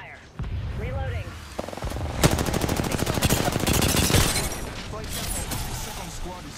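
Rapid machine-gun bursts fire loudly and close in a video game, a fast rattling stream of shots with chirping effects, while a voice talks over the shooting.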